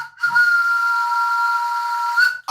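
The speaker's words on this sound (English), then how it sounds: "I'll get the old train whistle out" A steady, shrill train whistle blown in one long sustained tone, close and clear, with a brief breathy start and end.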